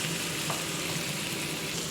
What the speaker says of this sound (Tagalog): Then ilagay na po natin guys ang ating meatballs. Ayan. Halu-haluin lang din.